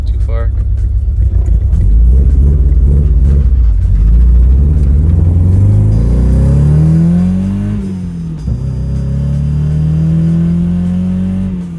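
A Nissan S13 engine revs up from a rough idle and climbs in rising pulls, dipping at a shift and pulling again, loud and close, with people talking over it.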